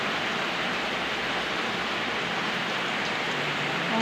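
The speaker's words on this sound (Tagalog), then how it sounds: "Ako ipakita ulan. Ulan kayo siya diri guys." A dense, unbroken hiss of heavy rain fills the space, loud and constant, with no voices over it.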